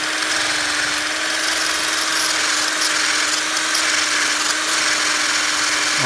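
A GBS 95 drill bit sharpener grinds a drill bit with a steady, loud, high-pitched whine and constant buzzing that holds evenly throughout with no pauses.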